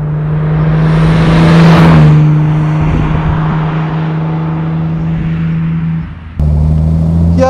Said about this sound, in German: das Motörchen läuft immer besser jetzt, wo er richtig schön warm geworden ist